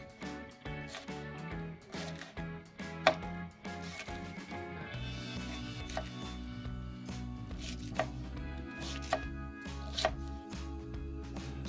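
A kitchen knife chopping peppers on a board in a quick, close run of crisp rhythmic chops, followed by sparser, isolated cuts over a low steady background.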